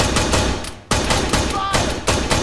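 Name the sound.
enemy gunfire in the video game Arma 3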